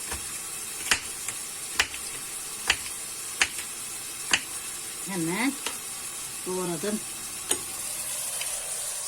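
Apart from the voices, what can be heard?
onions frying in hot oil in steel pot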